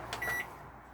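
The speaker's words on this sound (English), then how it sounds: "you can actually hear it is working as it should" A FC Bailey Jive Platinum 640 microwave oven runs close by with a steady hum, with a short beep-like tone near the start, then a quieter hum.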